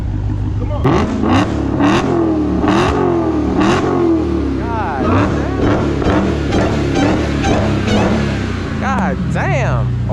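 A Dodge Charger SRT Hellcat Widebody with mid muffler and resonator removed revs repeatedly, loud rising and falling exhaust bursts in a rhythmic series close by, with people talking over it.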